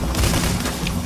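Dense, rapid machine gun fire from the heist video game Payday: The Heist rattles loud and close in one short continuous burst.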